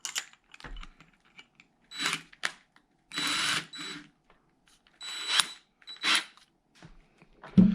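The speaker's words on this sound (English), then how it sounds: "now it is time to drill the hole" A power drill with a 1/2-inch bit whirs in several short bursts with quiet gaps, close by, drilling a hole for a kayak battery box, with a few small clicks and knocks.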